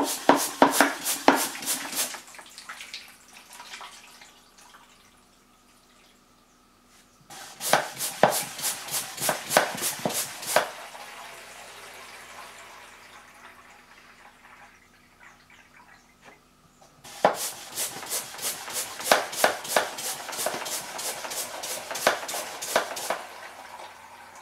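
Three rapid bursts of rhythmic mechanical clacking and gurgling from a Silverline manual liquid transfer pump sucking water from a bucket, separated by quieter pauses.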